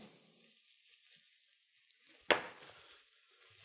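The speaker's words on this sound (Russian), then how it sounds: "чтобы лук и чеснок в сковородке заплакали от жара и жира" Faint sizzle of onion and garlic frying in oil in a pan, with a sharp clink of a utensil midway, followed by continued quiet crackling.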